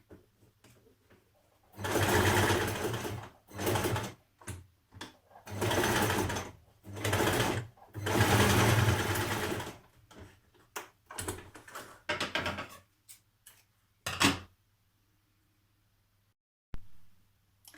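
A home sewing machine stitches straight across a dress piece in repeated bursts of rapid mechanical chatter, separated by short pauses, up close and without talk.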